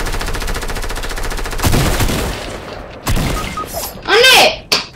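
Video game gunfire: a rapid machine-gun burst, then heavy shots and impacts with a shattering crash, loud and close.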